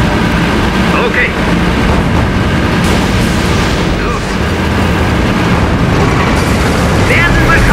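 Dense battle noise from the WWII strategy game Codename: Panzers, with booming explosions and gunfire rumbling continuously throughout, loud and close, with voices calling out over the din.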